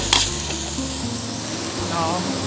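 Carrot frying in a hot pan for fried rice, giving a steady close sizzle with a few stirring scrapes and a brief clatter near the start.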